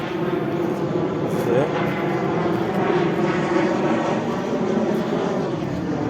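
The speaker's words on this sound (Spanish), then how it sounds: "Está pasando un avión." An airplane passing overhead outdoors, a steady broad engine roar that holds throughout at moderate loudness, with a person talking over it.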